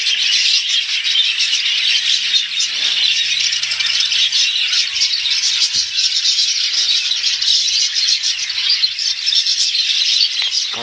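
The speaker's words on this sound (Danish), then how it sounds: "Godt nok mange fugle, hva'?" Many birds at a playground chirp together in a dense, continuous high chorus of tweets that carries loudly throughout, with little else beneath it.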